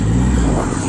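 Triumph Rocket 3 GT motorcycle with its big 2.5-litre triple engine blipping the throttle, a loud, close, steady low rumble filling the whole moment.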